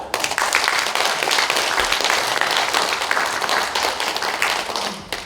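Audience applause in a large conference room at the National Assembly during a special lecture, sustained dense clapping from many hands that holds steady for about five seconds before easing off.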